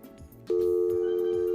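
A telephone line on a radio call-in show clicks and then sounds a steady, loud electronic tone that holds until the end, with faint background noise before it starts.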